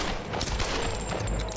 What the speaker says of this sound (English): I'll just shoot him in the back repeatedly until he dies.